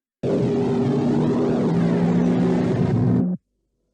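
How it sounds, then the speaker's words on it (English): A dense, roaring wind on an alien planet in the 1979 film Alien howls steadily for a few seconds, deep rumbling underneath with a wavering whistle above, then cuts off abruptly. "The sound of winds is overwhelming on the planet"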